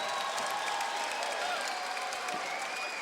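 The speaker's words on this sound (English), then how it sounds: "Aguirre getting a nice round of applause from the crowd here at the Roseland Ballroom" A boxing crowd at the Roseland Ballroom gives a courageous Mexico City fighter a steady round of applause after the bout, a dense continuous clapping with scattered cheers that holds evenly throughout.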